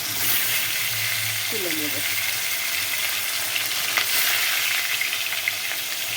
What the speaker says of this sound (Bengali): তেল গরম হয়ে গেছে, আমি মাছগুলো এখন হালকা করে ভেজে